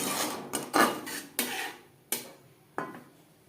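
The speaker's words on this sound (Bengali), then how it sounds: "মিডিয়াম টু লো ফ্লেমে 3-4 মিনিট মশলা কষিয়ে নেব" Faint scraping and stirring strokes of a spoon in a pan as spices are sautéed over a medium-low flame for a vegetarian potato and pointed gourd curry. There are several irregular swipes with short pauses between them.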